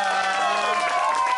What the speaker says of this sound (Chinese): 热烈最热烈的掌声来